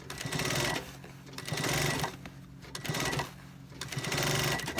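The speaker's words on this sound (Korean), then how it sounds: "저는 이 암다리 스티치 박을 때가 제일 힘들어요" Military uniform trousers are stitched along the inseam on a sewing machine, heard as four close bursts of rapid mechanical chatter separated by short quiet pauses as the fabric is repositioned.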